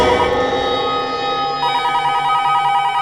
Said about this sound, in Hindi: लगता है किडनैपर का ही फोन है।